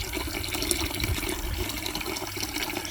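Tap water runs through a water meter into a bucket below, a steady loud gushing fill that continues without a break for the whole stretch, with no voices over it.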